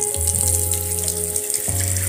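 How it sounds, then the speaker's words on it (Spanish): An old bathroom faucet lets water run steadily onto the floor, a continuous close rushing and splashing flow with a low hum underneath, heard alone without talk. "voy a simplemente dejar correr el sistema este de grifería antiguo"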